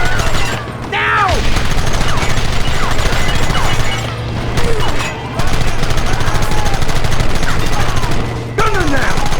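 Rapid gunfire from a Red Dead Redemption shootout, dense volleys and bursts cracking almost continuously at close range with a few brief pauses, shouted voices over the top.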